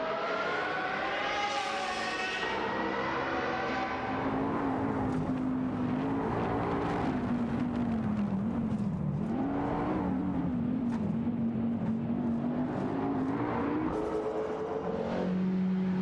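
Race car engines in an AI racing video game, including an Alfa, drone steadily throughout with rising and falling pitch as the cars run the track, loud and continuous with no voices.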